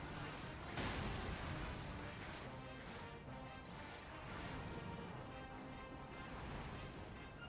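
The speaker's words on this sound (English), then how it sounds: "She just has, like, magic blast" Magic blast attacks in Dragon Quest Builders 2, a dense run of crashing, booming impacts that carry on steadily, loud and close, with a sharper burst near the start.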